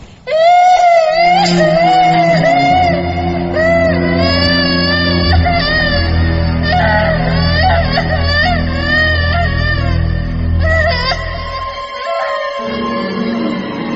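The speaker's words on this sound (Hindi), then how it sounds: "किसी बच्चे के रोने की आवाज थी।" A child cries in sustained, wavering wails over a low droning musical bed for a horror story, loud and continuous for about eleven seconds, then breaks off briefly before resuming.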